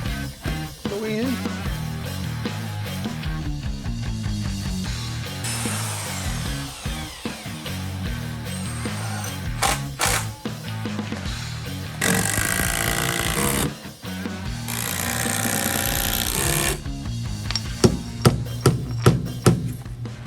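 Power driver sinking 3-inch Tapcon screws through wooden sleepers into a cinder block wall, with repeated loud whirring bursts and grinding, interspersed with knocks and handling noise, close and busy throughout.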